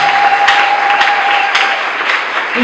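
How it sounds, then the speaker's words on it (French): Congregation at a Bible seminar applauding steadily, a dense sustained wash of clapping with a few sharper claps breaking through, loud and continuous with no speech. "Est-ce que tu peux acclamer pour Jésus?"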